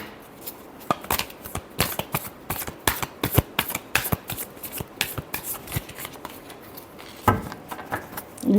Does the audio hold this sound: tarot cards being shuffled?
yes